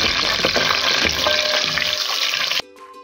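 Whole garam masala spices frying in half a cup of hot oil for a fish head curry give a loud, steady, hissing sizzle that stops abruptly near the end, with quiet tones left after it.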